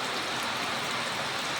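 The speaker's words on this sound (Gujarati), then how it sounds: "અત્યારે ચાલુ છે વરસાદ બહુ" Heavy rain pours outside an office in a steady, even hiss with no pauses or voices.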